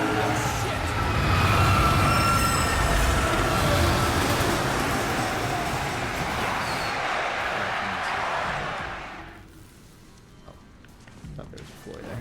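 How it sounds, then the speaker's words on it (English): A train thunders past in the video game DmC: Devil May Cry, a loud, dense rumbling roar sustained for several seconds before fading away abruptly. Someone talks over it. "The train gonna come through?"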